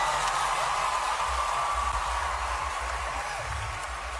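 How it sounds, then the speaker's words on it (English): Audience clapping rolls on steadily, a dense, continuous wash of hands from a sizeable crowd heard at some distance, with no talking over it. "And the idiots clap on, clap on, and clap on."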